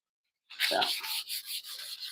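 Hand sanding with 320-grit sandpaper across the top of a piece being prepped for filler primer, a close series of scratchy rubbing strokes after a brief silence, each pass rising and falling in a steady back-and-forth rhythm.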